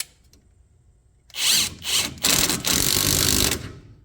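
Power tool tightening the outer tie rod end on a Toyota T100 3.0: after a second of near silence, several loud close bursts of whirring and hammering, short ones first and then a longer run of nearly a second.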